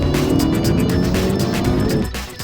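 A 2-litre turbocharged car engine producing 180 kilowatts roars loudly and climbs in pitch as it accelerates hard, then the sound drops away near the end.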